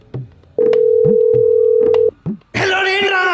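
Keypad tones of a mobile phone as a number is dialed, a few short beeps then one long steady tone, followed by a brighter ringing or connecting sound, loud and close with no talk.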